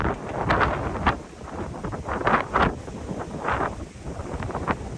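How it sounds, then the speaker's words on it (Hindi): Strong wind roars and buffets the microphone in uneven gusts ahead of a rainstorm, loud and continuous throughout with no voices. "बहुत ही तेज़ हवा"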